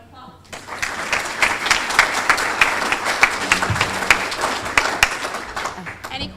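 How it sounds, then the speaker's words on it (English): An audience at a library presentation breaks into a round of applause, with dense, lively hand clapping that carries on steadily for several seconds before tapering off. "Give her a round of applause."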